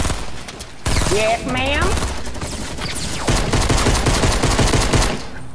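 Rapid bursts of pistol gunfire in the video game Fortnite crack out loud and close, firing in quick repeated volleys across most of the stretch while players talk excitedly over the shots.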